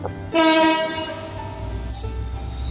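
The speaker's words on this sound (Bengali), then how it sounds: "সেদ্ধ ডিম দোলাতে দোলাতে দেখি ট্রেন এসে গেছে।" A train horn blares briefly, then the low, steady rumble of a train rolling into a station continues close by.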